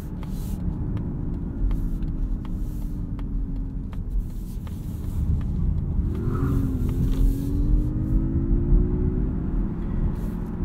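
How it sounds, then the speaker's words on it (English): Cabin view of a 2022 Mazda MX-30 EV Premium Plus electric car on the move: a steady low road rumble and faint drivetrain hum persist throughout, with no talking. "I really like the way this electric car drives"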